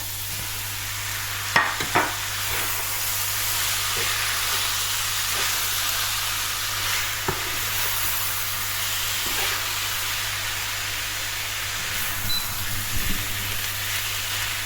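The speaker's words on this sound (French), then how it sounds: "Donc je vais mettre mes pâtes." Konjac noodles tossed into vegetables in a hot frying pan give a steady soft sizzle and hiss, with occasional stirring clatters and scrapes, heard close with no talking.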